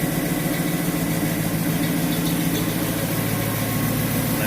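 A 1971-73 Ford Mustang with a 351 Windsor 5.8 V8 idles steadily nearby, a dense, constant low rumble with even vibration and no gaps, and no talking.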